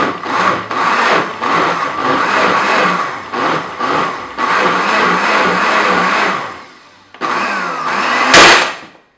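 A blender churns paper pulp in loud, choppy bursts of motor whir and grinding, cutting out briefly before a final strained surge.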